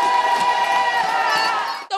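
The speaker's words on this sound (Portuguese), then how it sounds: "Torcida não faltou." Supporters at a women's futsal match cheer and shout as a steady roaring crowd, loud and sustained, with some bouncing thuds beneath, cutting off abruptly near the end.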